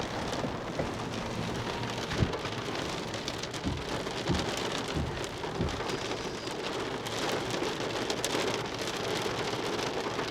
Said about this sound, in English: That sounds like hail actually.